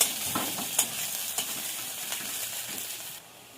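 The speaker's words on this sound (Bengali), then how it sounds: "পেঁয়াজটা তেলে নাড়াচাড়া করে নেব।" Onions frying in mustard oil are stirred with a spatula, producing several distinct scraping knocks over a soft steady sizzle, quietening toward the end, with nobody speaking.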